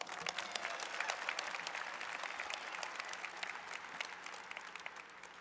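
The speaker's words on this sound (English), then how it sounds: "Let's give them all one more round of applause." Steady applause from a large audience at a high school graduation, dense crackling claps sustained throughout at even loudness.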